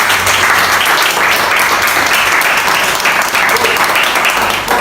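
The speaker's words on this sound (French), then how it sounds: "Est-ce qu'on peut acclamer pour ça?" An audience applauds loudly and continuously at a product demonstration of Longrich sanitary pads, a dense wash of clapping that fills the scene throughout.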